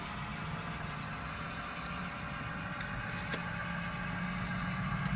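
Steady low rumble of passing motorcycles outside, heard as a continuous distant engine drone with a faint swell near the end.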